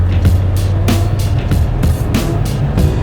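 A tuned Land Rover Defender Td5 90 diesel fitted with a Falcon hybrid turbo pulls hard under acceleration, a loud, steady low engine drone with rhythmic bursts of hiss and whoosh repeating about every third of a second.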